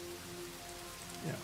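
Rain in Minecraft with the TerraFirmaGreg mod, a soft steady hiss of falling rain, quiet and continuous, with a brief low thump near the end.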